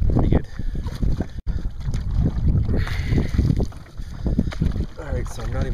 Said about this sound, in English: Still getting the hang of paddling on my own.